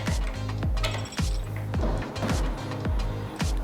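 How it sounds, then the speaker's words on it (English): Two 5 mm Allen wrenches loosen the rear shock mount bolt on an Ibis Oso mountain bike, giving a close, loud series of rhythmic metallic clicks and knocks, roughly every half second. "we'll loosen and remove the rear shock mount shaft and bolt with two 5 millimeter"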